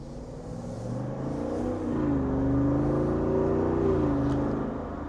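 A Jeep Wrangler 392 with a HEMI V8 cruises at about 40 mph. Its deep engine drone and road rumble swell slightly and shift pitch, heard steadily throughout with no talking.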